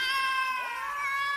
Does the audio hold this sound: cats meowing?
yes